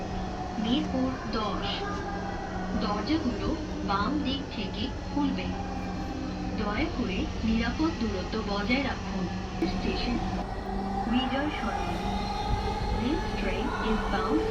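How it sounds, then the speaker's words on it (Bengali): A Dhaka metro rail train runs at speed with a steady, loud rumble and rolling wheel noise throughout, while voices talk faintly under it. "মেট্রো রেলের স্পিডটা অনেক বেশি দেখেন গাইস কত স্পিডে চলে মেট্রো রেল"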